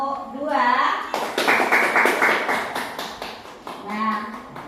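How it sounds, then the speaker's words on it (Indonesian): A classroom of students claps for a group in a rhythmic burst of many hands, preceded and followed by a teacher's voice speaking. "Tepuk tangan untuk kelompok dua."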